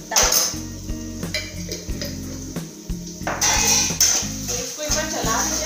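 Peas are stirred in a metal pan, giving repeated clanks and scrapes of a utensil against the pan in an uneven rhythm, loud and close, with a brief tonal ring in places.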